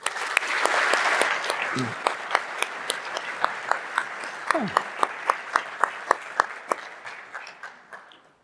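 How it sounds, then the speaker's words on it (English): A conference audience breaks into dense applause that thins out over several seconds into scattered individual claps, with a voice briefly speaking partway through. "please give a round of applause for all of that"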